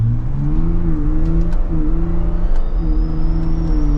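A 2023 Ford Bronco Raptor accelerating gently on a road with short shifts and light throttle: a loud, close engine drone climbs in pitch, dips at each gear change, then climbs again under a faint whine.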